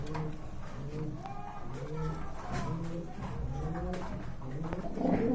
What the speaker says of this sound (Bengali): মাশাআল্লাহ খুবই সুন্দর কবুতর